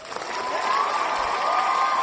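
Crowd applause with some cheering rises and holds steady, a dense wash of clapping heard alone as a sound effect.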